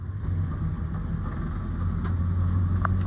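A roughly 70-year-old Morris Minor car cruises at about 30 mph, its engine making a steady mid-low hum with road rumble from inside the cabin and a couple of faint brief clicks.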